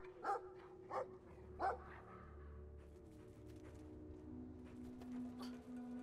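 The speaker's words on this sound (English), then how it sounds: "That is a scary looking dog." A dog barks in the video game Brothers: A Tale of Two Sons, three sharp, fairly faint barks about a second apart over a low ambient game hum, followed by quieter scattered yelps and a tonal drone.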